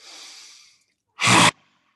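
Yoga lion breath: a soft inhale fades out, then after a pause comes a single short, loud, forceful rasping exhale from the throat, close by and alone.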